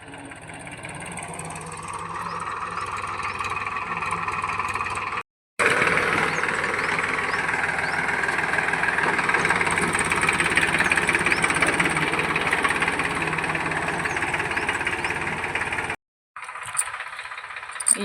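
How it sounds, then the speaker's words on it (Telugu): A tractor engine drones steadily while ridging a farm field before sowing, a close, continuous rumble with two brief gaps where it cuts out. "ట్రాక్టర్ తోటి ఇలా బోదలేపిస్తున్నారు."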